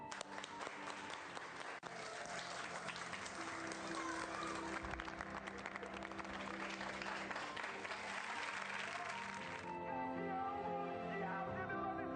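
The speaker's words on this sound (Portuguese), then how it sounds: "Vamos bater palmas para o Ayrton Senna?" A large audience applauds in tribute to Ayrton Senna, producing dense, sustained clapping with crowd noise that holds steady and then cuts off abruptly near the end.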